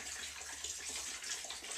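Water poured steadily from a jug onto a load of clothes in a high-efficiency washing machine, a soft continuous splashing and trickling hiss, close and even, with no talking.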